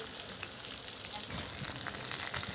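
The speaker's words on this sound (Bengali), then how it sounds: "আলু পটলটা ভালো করে আগে ভেজে নেব।" Potatoes and pointed gourd fry in hot oil in a pan, giving a steady, close crackling sizzle at low level with no voices.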